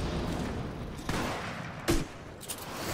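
Airburst weapon fire in a first-person shooter video game, a steady roar of combat noise broken by a few sharp, loud bursts, with no talking.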